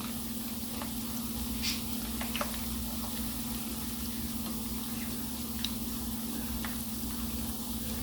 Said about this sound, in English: after I'm done frying these, when they're crispy enough